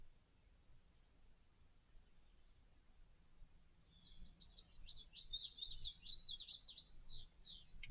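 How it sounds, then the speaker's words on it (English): After a few quiet seconds, a bird starts singing nearby, a quick stream of high, twittering chirps that continues to the end. "Birds sound amazing."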